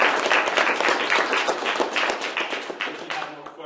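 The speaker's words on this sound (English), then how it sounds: "So I would like to give our representatives a round of applause." People at a community council meeting give a round of applause for their representatives, a close burst of lively clapping that gradually thins and fades out after a few seconds.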